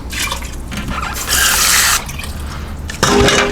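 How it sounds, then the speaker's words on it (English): Water is poured from a cup into a pressure cooker for chicken noodle soup, making close splashing and trickling bursts in two or three separate pours. "Now 2 cups of regular water."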